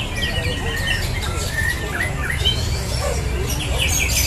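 A white-rumped shama delivers a long, varied run of whistles and trills over a crowded background of other birds chirping and murmuring voices.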